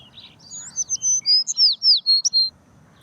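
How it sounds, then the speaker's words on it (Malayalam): A small bird gives a rapid series of high, thin chirps and whistles, clear against a quiet background. "ഞാൻ ഒരു കിളിയുടെ ശബ്ദം കേട്ടു."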